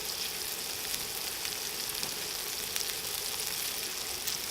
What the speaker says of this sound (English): The butter with the garlic and the thyme already cooking.